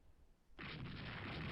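Naval gunfire in the Rule the Waves 3 warship battle game, cruisers engaging: after a quiet half second, a sudden loud broadband burst of cannon fire swells into a sustained rumbling barrage, with no talk.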